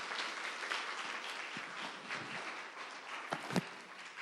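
A congregation claps warmly in a church during a Sunday sermon, a steady, diffuse patter of many hands filling the room for several seconds at moderate loudness, with no voices.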